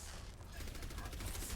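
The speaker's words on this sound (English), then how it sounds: "I see a Barrage." Pharah's Barrage ultimate in Overwatch unleashes a rapid, continuous stream of rocket blasts, a dense crackling barrage that grows louder and persists to the end, faint and distant in the game mix.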